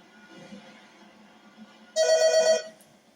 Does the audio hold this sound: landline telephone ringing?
yes